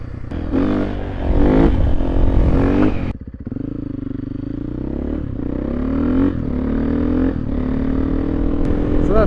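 Dirtbike engine droning steadily in 6th gear while riding on enduro wheels along a road in Turkey, loud and close with a brief dip in pitch before settling into an even cruise, wind rushing around it.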